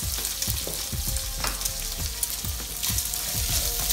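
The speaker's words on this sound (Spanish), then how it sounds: "se fría junto con el tocino" Onion fries with bacon in a wok for yakimeshi, giving a constant bright sizzle with regular low scraping strokes of a spatula stirring about twice a second, close up and without speech.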